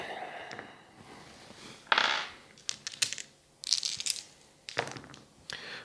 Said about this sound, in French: je lance 4 dés rouges là